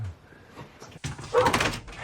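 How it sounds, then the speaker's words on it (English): A dog gives a short burst of muffled woofs and yips after a quiet stretch with a faint thump, fairly close by. "Guard dog, supreme."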